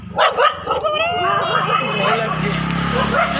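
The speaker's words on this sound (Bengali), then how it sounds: "দেখো আবার এই কুকুরগুলো বউ বউ করছে" Dogs bark near a church in a few sharp, yipping bursts early on, fairly close, with a person speaking over them.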